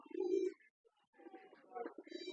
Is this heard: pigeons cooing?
yes